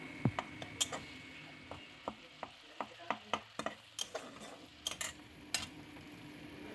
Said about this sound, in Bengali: এবার এটাকে আমি খুব ভালো করে কষিয়ে নেব একদম তেল ছাড়া অব্দি আমি কষাতে থাকবো